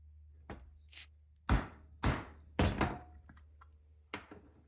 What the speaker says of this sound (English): Now I'm going to punch where that hole will be